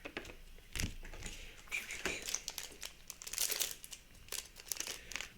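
Dragon Ball trading card booster packs being torn open and handled, with close, bursty crinkling and ripping of foil wrappers in irregular clusters throughout.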